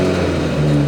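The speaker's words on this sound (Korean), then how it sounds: "이게 배기 소리가 장난 아닌데?" A BMW 740Li flagship sedan idles just after starting, its exhaust giving a loud, steady low drone with a slight rise in pitch partway through, close up and with no talk.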